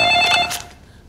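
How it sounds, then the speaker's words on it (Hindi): A telephone bell rings loud and close in a scene from the 2015 Hindi film Dirty Politics. One brief bright ring cuts off and fades within a second. "अरे फोन मत उठा यार।"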